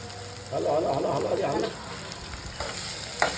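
Clams fry with ginger-garlic paste in a pan, a brief burst of close sizzling that swells and fades after about a second, followed by quieter stirring clinks.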